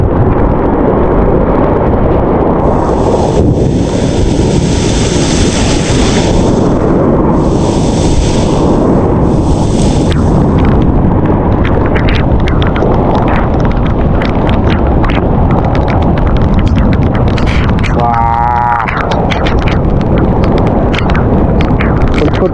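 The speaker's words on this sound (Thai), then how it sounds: "แต่ฟ้าร้องน่ากลัวมาก" Storm wind buffets the microphone in a steady loud roar, with deep rumbling thunder mixed through it during a severe storm outdoors.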